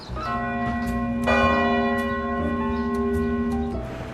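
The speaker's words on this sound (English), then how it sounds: "each hour, as it does now, it chimes to let New Yorkers know the time" Bells of the clock statue that came from the New York Herald building chime the hour in New York, ringing clear, sustained metallic tones with a fresh strike midway, loud and alone.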